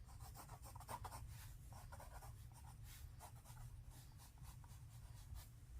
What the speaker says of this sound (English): in this direction, I'm gonna make a few pencil marks.